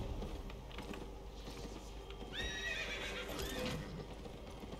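A horse neighs loudly in a video game as its rider mounts up, the whinny rising over a steady clip-clop of hooves and a busy ambient background, with no talking.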